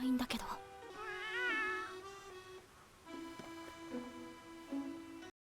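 A cat meows in an episode of the anime Frieren, giving several drawn-out, wavering meows close up with a short sharp sound at the start, and voices speak alongside.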